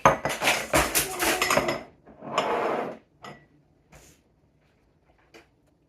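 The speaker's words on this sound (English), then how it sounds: "I'm actually just throwing some of them in the sink." Pickled beets tossed into a kitchen sink make a quick run of wet clatters and thuds against metal, followed by a few sparse knocks and clinks fading into quiet.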